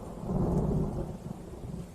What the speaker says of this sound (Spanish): no habían percibido que estaba lloviendo